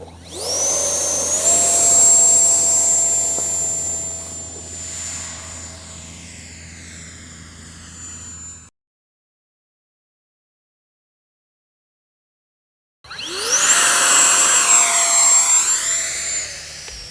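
An E-flite Viper 64mm electric ducted-fan model jet whines steadily at high pitch as it lands on grass, then after a silent gap the fan spools up loudly again for a takeoff from the grass.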